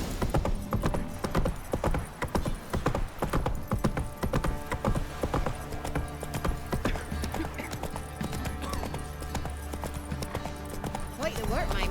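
Horse hooves clip-clop steadily during riding in The Witcher 3 video game, with a whinny possible and a rider's voice speaking over the busy game soundscape.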